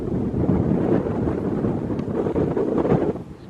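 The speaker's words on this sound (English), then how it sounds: "It is cold and windy up here" Wind blows hard and steadily across a cold mountaintop, buffeting the microphone in a continuous low roar that stays loud throughout.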